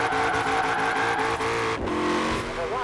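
Chevrolet Camaro engine in Forza Horizon 4, revving steadily with shifting pitch across the clip, loud and continuous, with a short dip near the middle before climbing again, and a voice talking over it.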